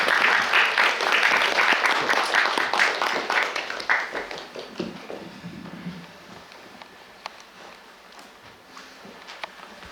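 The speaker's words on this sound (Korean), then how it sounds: "타츠바나 에리 씨를 큰 박수로 모셔주시기 바랍니다" Loud audience applause welcoming guest Tachibana Eri at a library talk event, dense clapping for about four seconds that thins out into scattered claps and fades.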